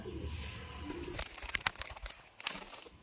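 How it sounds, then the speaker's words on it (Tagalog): Pigeons coo softly in the background while sharp fluttering and scraping sounds break in, quiet and somewhat distant, no talking. "Ayun na yung mga ibon natin. Dalawa na."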